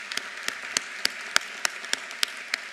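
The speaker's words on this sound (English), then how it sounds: "How about a round of applause?" At a medical school white coat ceremony in Joplin, the audience applauds the new students, with evenly spaced sharp claps standing out over a steady, softer background of clapping.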